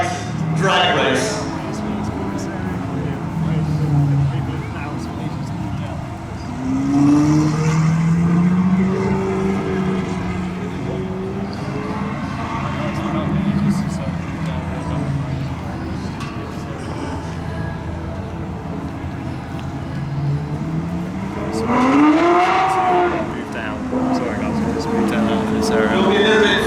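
Ferrari cars race at Brands Hatch, engines rising and falling in pitch as they pass at moderate distance, with a commentator talking over the continuous motor noise.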